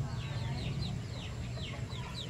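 Gamefowl chickens on a mountain farm cluck and squawk in short repeated calls, fairly faint and a little distant, with a low murmur of voices underneath.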